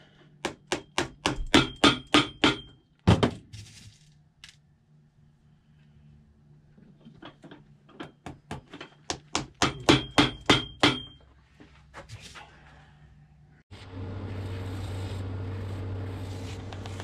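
A hammer drives nails into a boot sole set on a hollow last, giving sharp, ringing blows in quick runs of about eight strikes, then a pause, another burst, and a rustling scrape at the end.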